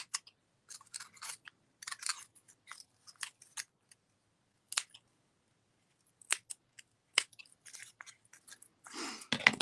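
Scissors trimming a carved printing block piece by hand: quiet, close, irregular bursts of crisp snipping and crunching cuts separated by silent pauses, ending in a longer rustling burst.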